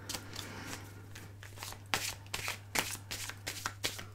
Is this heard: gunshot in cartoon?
no